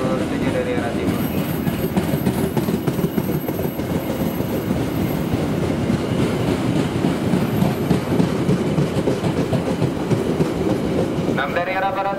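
A service train rolls into track 7 at a station, a steady loud rumble with clickety-clack from the wheels and a faint high squeal, ending with a brief tonal sound.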